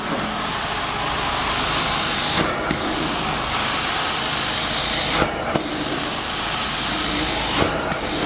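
Amtex Prowler 2533 LP carpet extractor vacuuming, a loud steady motor roar with hiss, broken by brief dips and surges about three times as the wand moves.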